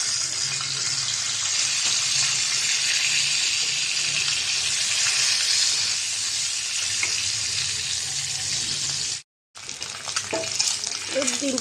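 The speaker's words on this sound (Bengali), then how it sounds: "তেলটা গরম হয়ে গেছে, ডিম দিয়ে দিব।" An egg fries in hot oil in a kadai, giving a loud, continuous close sizzle with a crackling hiss that holds steady, cuts out for a moment near the end, then returns.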